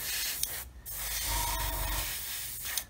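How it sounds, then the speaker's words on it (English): Low-pressure airbrush spraying gloss black paint onto a 1/35 scale HobbyBoss Land Rover SWB model, a steady close hiss running the whole time with brief pauses and slight shifts in intensity. "I'm spraying at such a low pressure, I can't really smell anything."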